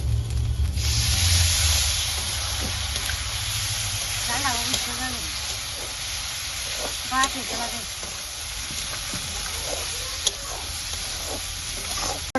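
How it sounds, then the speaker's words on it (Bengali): Chicken frying in a pan sizzles loudly as soy sauce goes in. A steady, bright hiss carries on throughout, with stirring and scraping noises and occasional brief voices in the background. "এখন সয়া সস দিয়ে দিব"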